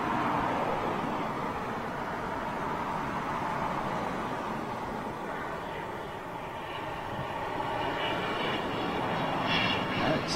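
A military jet landing at RAF Lakenheath, heard as a continuous broad engine roar that stays steady for the whole stretch, with a faint rising whine near the end.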